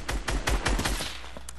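A quick volley of about seven gunshots hammering against a shield in a video game, rapid and punchy, then a lingering hum as the firing stops.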